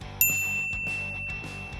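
A bright electronic notification ding rings out once, sharp at the start with a long shimmering tail that fades slowly, standing alone without voices.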